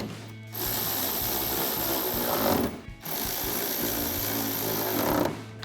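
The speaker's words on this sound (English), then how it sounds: "Next, we can grab our 8mm socket to tighten these all down." A power driver with an 8mm socket runs down the headlight bolts on a 2019-2023 RAM 1500, two loud, close, sustained buzzing runs separated by a brief pause.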